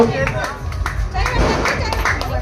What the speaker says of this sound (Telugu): చప్పట్లు గట్టిగా చప్పట్లు కొట్టండి